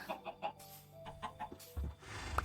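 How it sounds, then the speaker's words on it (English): Chickens on a video game farm give a run of soft, quick clucks at an uneven rhythm, quiet and close, with no talking. "This is my chicken farm."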